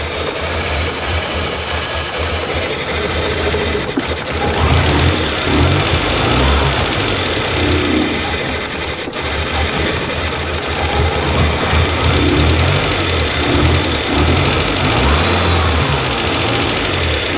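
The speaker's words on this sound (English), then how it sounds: "Hoping these fans kick on. It's trying to idle now." A 1989 Winnebago LeSharo RV engine with a split vacuum hose idles roughly up close, running steadily and loudly throughout with slight surges in revs and no voices.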